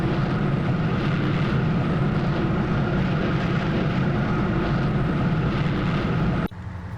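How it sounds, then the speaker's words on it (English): Jet afterburner roaring in a large-scale PvP military video game, a loud, steady broadband engine rumble that holds unbroken for over six seconds before cutting abruptly near the end. "Afterburner on."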